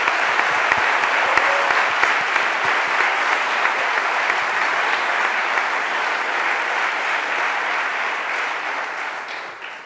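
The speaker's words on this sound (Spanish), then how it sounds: "Damos un aplauso." An audience at a book presentation applauds with dense, steady clapping that fills the room, then tapers off near the end. No one speaks over it.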